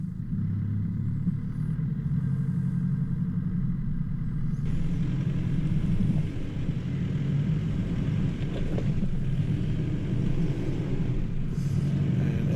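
A 4WD grinding slowly over rocks on the lumpy Mountain Track in Tallarook State Forest near Mount Hickey, a steady low engine rumble with scraping texture, continuous and close, no talking.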